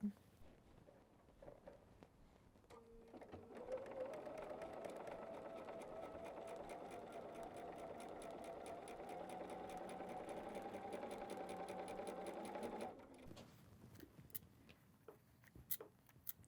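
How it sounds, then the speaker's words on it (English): A sewing machine runs a quarter-inch seam through quilting fabric in one steady, continuous whir of rapid stitching for about ten seconds, with quieter handling before and after. "So let's go sew our 1/4 inch seam and let's see how we did."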